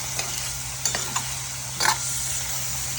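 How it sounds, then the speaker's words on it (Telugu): Paneer pieces frying in a pan with turmeric, salt and chili powder, giving a steady background sizzle broken by a few brief scraping stirs of the spatula. "కొంచెం సాల్ట్, కొంచెం కారం వేసి వీటిని బాగా ఫ్రై చేసుకోవాలి."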